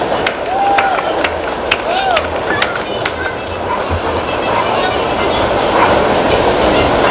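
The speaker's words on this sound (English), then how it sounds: "Can you hear the train?" A train rumbles past under steady noise, with metallic clicks and squeals from the rails and a murmur of people nearby.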